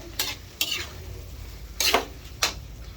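Scrambled eggs with tomatoes frying in a pan, a steady soft sizzle broken by four sharp clinks and scrapes of a utensil stirring against the pan, close up with no voices.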